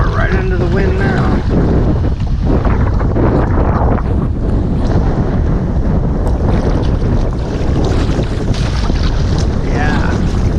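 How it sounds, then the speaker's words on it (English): Strong headwind roaring across the microphone while kayaking on a creek, a steady, loud buffeting rush that fills the whole stretch, with water sloshing faintly beneath. "the wind's picked up here and it's crazy, and it's coming in as a headwind"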